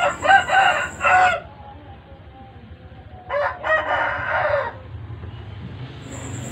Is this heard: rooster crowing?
yes